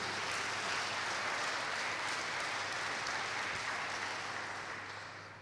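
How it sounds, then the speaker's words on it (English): An audience at a university welcoming event gives a round of applause, a faint, steady wash of distant clapping that holds evenly and then slowly tapers off. "Give it up for our host. Another round of applause,"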